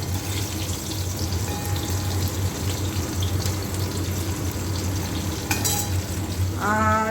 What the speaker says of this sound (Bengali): কাঙ্গল ভাজা হচ্ছে